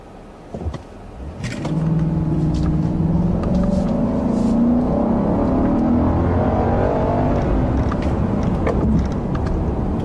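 A 2015 Kia K900 luxury sedan drives on the road, with a steady, full engine and road hum that rises after a brief quiet start and holds evenly throughout.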